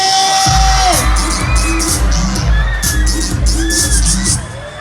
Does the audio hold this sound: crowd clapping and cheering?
yes